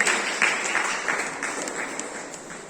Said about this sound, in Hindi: बच्चों तालियां बची रहनी चाहिए